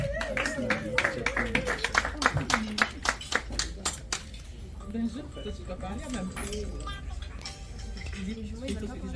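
Scattered clapping from a small group at a birthday party, sharp claps in an uneven rhythm for several seconds that then fade into murmured talk and room noise.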